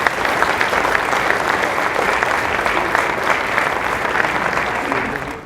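A gala audience at an entrepreneurial forum gives a sustained round of applause, thick, even clapping from a large crowd holding steady and fading slightly at the very end.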